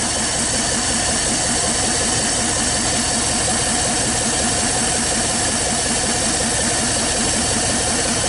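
A 1956 Buick barn-find's 322 Nailhead V8 runs steadily just after its first start, a loud, constant engine roar with hiss and no pauses, close up with no talk.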